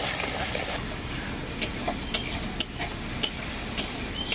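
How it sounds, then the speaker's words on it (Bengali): Spice paste mixed with yogurt being stirred in a pan, a steady soft scraping wash with several sharp utensil clicks against the pan in the second half. "দই দিয়ে আমি খুব ভালো করে নাড়াচাড়া করে নেব মশলাটাকে।"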